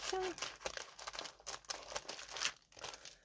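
Paper being cut along a fold line, a run of short crisp crinkling snips and rustles close by, with a voice speaking over part of it.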